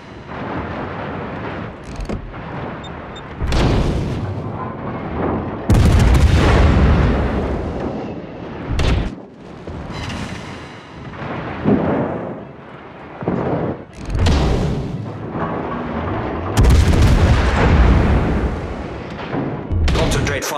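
Heavy naval artillery salvos from warship guns in World of Warships, on the Land of Fire map, with a Petropavlovsk cruiser. Loud booming blasts repeat at irregular intervals across the clip, with explosions mixed in.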